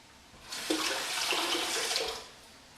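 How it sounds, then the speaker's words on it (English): Tap water runs in a steady rush into a sink to rinse a safety razor during a shave, starting abruptly and holding for about two seconds before cutting off. "Perform a quick rinse."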